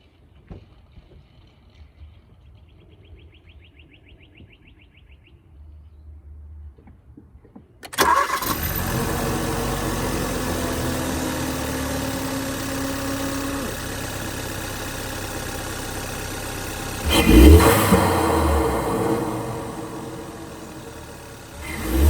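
A 2014 Hyundai Veloster Turbo fitted with an Injen intake cranks and catches after a few quiet seconds, then settles into a steady, loud idle with a brief rev swell partway through.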